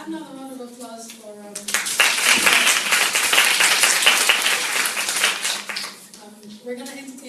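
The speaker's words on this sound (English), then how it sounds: "Another round of applause for" At a museums conference, an audience breaks into applause that swells quickly, holds for several seconds and then fades. A voice speaks just before the clapping starts and again after it dies down.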